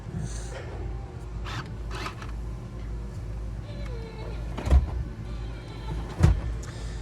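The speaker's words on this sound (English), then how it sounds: "Now, these are power folding seats." Power folding rear seats in a 2023 Jeep Grand Cherokee Overland L lower with a soft electric motor whir over a steady cabin hum, then two solid thumps land about a second and a half apart as the seatbacks settle.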